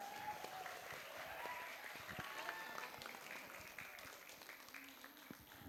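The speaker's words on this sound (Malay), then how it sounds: "Kita beri tepuk tangan yang meriah." The audience at a university guest lecture gives a round of applause, faint and somewhat distant, with soft talking mixed in that tapers toward the end.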